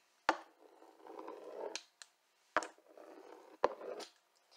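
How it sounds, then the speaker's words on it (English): A pizza roller cuts through potato scone dough for tattie scones in three sharp, close passes. Each pass begins with a crisp contact tap and is followed by a soft rolling rasp, and the quiet kitchen has no talk. "I'm just going to use my pizza roller and we'll cut it into 6."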